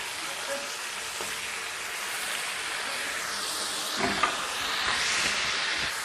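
Tomatoes hitting hot oil in a kadai for chicken karahi give a steady, close, broadband sizzle that swells briefly midway and stays continuous, with no voices.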